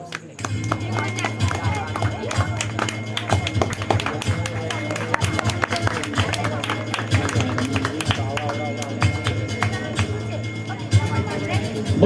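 Scattered audience clapping at a Badgujar community ceremony honouring meritorious students, irregular claps mixed with shuffling under a steady hum and ongoing talk.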